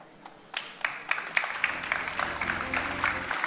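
Audience applause at a business school graduation ceremony, starting with a few claps and swelling into steady, moderately loud clapping from a crowd, with a low hum beneath.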